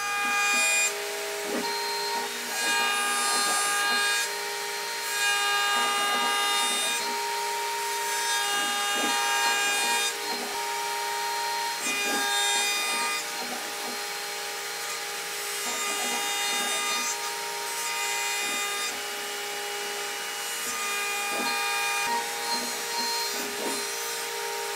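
CNC router cutter machining a wooden guitar body and leaving a crisp edge, producing a continuous high spindle whine with a rushing dust-extraction hiss and rhythmic scraping pulses as the bit moves through the wood.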